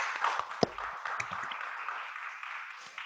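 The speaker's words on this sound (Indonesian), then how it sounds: "kami berikan tepuk tangan dong yang meriah kepada narasumber kita pagi ini" An audience claps for a guest speaker at a morning lecture on narcotics issues, a faint, steady patter of applause lasting about three seconds with a few sharper claps near the start.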